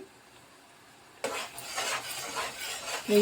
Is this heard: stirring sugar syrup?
yes